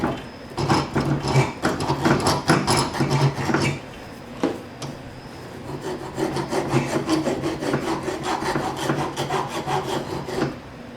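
A hand file rasps across a hatchet head during a restoration, in repeated rhythmic strokes, close and fairly loud, with a short pause midway before the scraping resumes; no voices.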